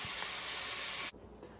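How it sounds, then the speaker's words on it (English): Taco meat filling simmering in a pan gives a loud, steady sizzling hiss that cuts off abruptly after about a second, leaving only quiet room sound. "Now we're supposed to simmer this until it has thickened."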